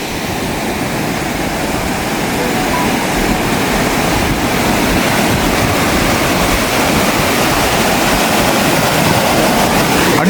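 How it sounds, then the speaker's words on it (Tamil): After a cyclone, floodwater surges past the storm-wrecked Nayaru bridge in Mullaitivu with a loud, unbroken roar that holds steady throughout, and no voices are heard. "அந்த பக்கம் தான் தண்ணி இப்படி அடிச்சு ஒன்று ஓடுது"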